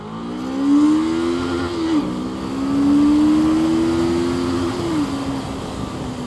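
A Voge 525RR motorcycle accelerates hard through the gears. The engine note rises steadily in pitch, with brief dips at each of two upshifts, and sounds close and loud with wind noise.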